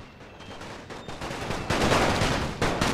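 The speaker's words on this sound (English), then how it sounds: "So my troops have now opened fire" Troops open fire in The Great War, a World War I video game, during the Siege of Kut Al Amara multiplayer battle: a dense, continuous roar of rifle and machine-gun fire that builds in loudness, with no talking.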